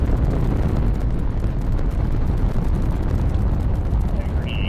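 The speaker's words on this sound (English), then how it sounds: "2, 1. Booster ignition. And liftoff." Artemis II rocket boosters ignite and lift off in a loud, continuous, broadband roar that rumbles steadily without a break, with a voice faintly audible beneath it.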